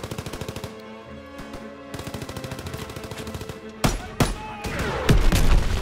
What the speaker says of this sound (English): Is that all they're doing is shooting bazookas?